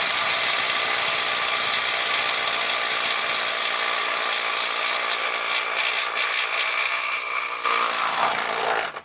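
A Milwaukee M12 FUEL subcompact impact wrench hammers loudly and steadily up close for about nine seconds, a dense rapid impacting rattle that cuts off abruptly at the end, with no speech.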